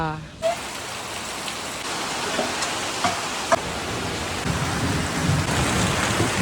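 Steady rain hissing on a surface, with a few faint sharp drips and a distant low rumble, continuous throughout.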